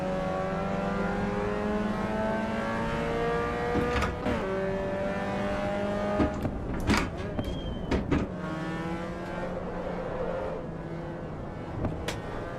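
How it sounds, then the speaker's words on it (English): A Honda VTEC engine in the Assetto Corsa Evo racing game revs steadily, its rising and falling harmonics sweeping through gear changes, loud and continuous with a few sharp clicks and pops along the way. "the bark of the engine, the VTEC sounds brilliant"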